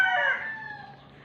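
A chicken on a small family farm gives a brief, fairly close cluck or crowing call that fades quickly, heard alone.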